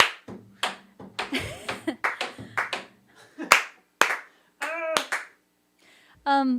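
A small room audience at a rent party applauds in short, uneven bursts of clapping, close and fairly loud, with brief gaps and voices speaking between the bursts.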